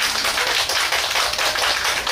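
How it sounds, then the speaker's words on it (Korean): Dense, steady applause from a festival crowd at an outdoor gakseori street-performance show during the Yeosu Geobukseon Festival, a broad unbroken wash of many hands clapping close by with no talk over it. "박수 한번 줘봐요. 박수."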